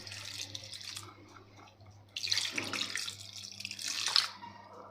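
Water runs and splashes from a tap into a bowl, quieter at first and then stronger in bursts, with a faint steady hum beneath.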